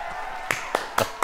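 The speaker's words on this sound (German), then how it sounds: "Applaus, Applaus!" A few separate hand claps, four sharp sounds spaced irregularly over a quiet background, sparse rather than a full applause.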